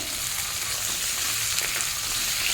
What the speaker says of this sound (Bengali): চিংড়ি মাছটাও সবজির সঙ্গে ভালো করে ভাজবো